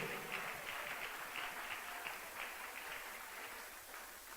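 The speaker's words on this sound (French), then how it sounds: "Est-ce qu'on peut applaudir pour la gloire de Dieu?" A church congregation claps during a French and English sermon, giving quiet, continuous applause heard from a distance, a soft, even wash of many hands with no voices over it.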